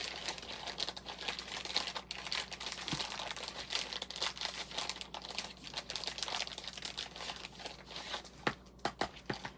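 Plastic bags from a diamond art kit crinkle and rustle continuously close up, with quick sharp crackles scattered throughout and no talking.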